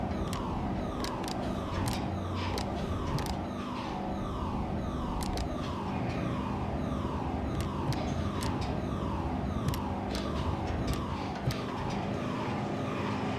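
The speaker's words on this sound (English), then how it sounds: "I have no idea why there's a siren going off in the background." A wailing siren sweeps up and down steadily and continuously in the background of a dockyard business simulation game, held at a constant moderate level with no talk over it.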